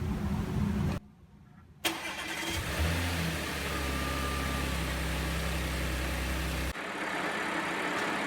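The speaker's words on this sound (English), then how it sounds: "we'll let the engine warm up a little bit" An Audi S4 engine, just cleaned, cranks and catches after a brief pause, then settles into a steady idle, close and moderately loud, before the sound cuts off abruptly near the end.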